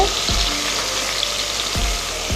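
Small fish fry in oil with a steady, even sizzle that runs unbroken throughout, with a few faint low knocks from the pan beneath it.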